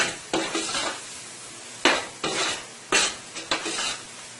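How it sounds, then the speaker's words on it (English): Boiled provisions being tossed and sautéed in a pan, heard as several distinct bursts of scraping and rattling with soft frying underneath, each toss a brief sharp clatter followed by quieter sizzle. "And you're going to give this a toss. Let it saute for about 2 to 3 minutes"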